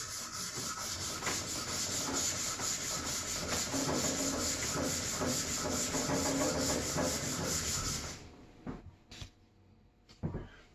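Steel iron from an old block plane rubbed back and forth on a diamond sharpening plate, a loud, continuous rasping scrub with a steady stroke rhythm for about eight seconds, then stopping, followed by a few light scrapes and taps.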